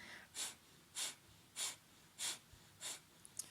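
Rhythmic closed-mouth panting breaths in a kundalini yoga exercise: five or six evenly spaced sharp nasal exhalations about half a second apart, close and fairly soft, with no talk.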